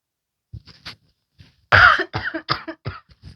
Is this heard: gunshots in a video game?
no